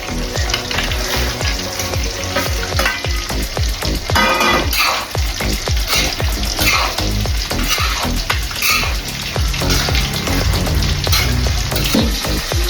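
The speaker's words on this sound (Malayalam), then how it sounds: "ഇതിലേക്ക് വറുപ്പ് ചെയ്യണം മീനെ" Fish pieces sizzle and spit in hot oil in a pan while a utensil stirs and scrapes with frequent clattering knocks, loud and continuous.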